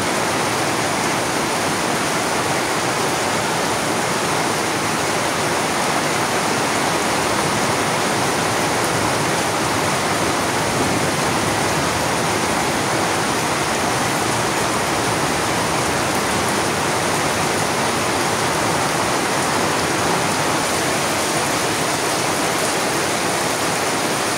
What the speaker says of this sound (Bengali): যে কি বৃষ্টি!